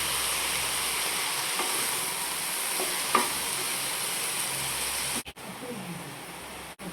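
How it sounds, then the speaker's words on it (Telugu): Panuganti leaf curry frying in oil in a pan, a steady close hissing sizzle with a few faint stirring scrapes, briefly dipping near the end, with no talk. "ఇలా మంచిగా వేయించుకోవాలి."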